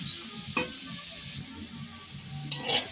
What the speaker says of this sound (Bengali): তো আমার শাক ভাজা হয়ে গেছে